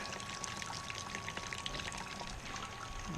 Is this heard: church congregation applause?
no